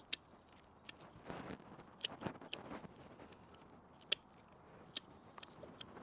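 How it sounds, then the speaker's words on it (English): Scissors snip a juniper bonsai being trimmed bare, giving scattered sharp clicks and cuts spaced irregularly over quiet room tone, close and fairly faint, with no talking. "So I'm gonna trim this tree quite bare."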